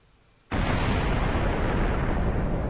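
A thermobaric explosive detonates in Minecraft with the Voltz mod: after half a second of quiet, a sudden loud blast breaks into a heavy, continuous roaring rumble that holds steady to the end.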